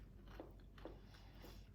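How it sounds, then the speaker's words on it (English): Faint, close crunching as someone bites into semi-homemade garlic parmesan snack crackers. Three or so crisp bites are heard over a low background hum. "I'm going to give it a taste so you can tell that they're not soggy"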